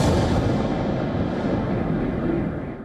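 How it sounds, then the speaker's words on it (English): A deep, rumbling explosion from a Russian missile and drone strike on Kyiv at night, a sustained thunderous roar that slowly fades over a few seconds. "And explosions thunder across Kyiv,"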